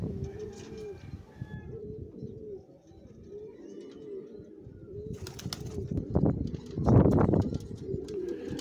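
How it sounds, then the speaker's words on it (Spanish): Soft, repeated throaty coos from racing and working pigeons in a loft near Cullera, close by with some rustling and a burst of wing flapping toward the end. "Podéis ver aquí la paloma"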